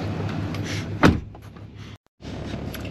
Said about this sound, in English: I'm gonna shut the door because it stinks